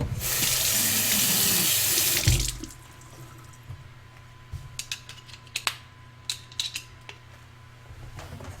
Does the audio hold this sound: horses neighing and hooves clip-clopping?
no